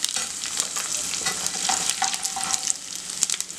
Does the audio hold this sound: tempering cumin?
yes